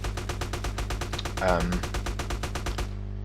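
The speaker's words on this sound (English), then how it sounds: "You can see we're shooting the crap out of him." Rapid automatic gunfire in GTA San Andreas with the X-Files mod: a fast, evenly spaced stream of shots rattles steadily at moderate volume, then stops suddenly.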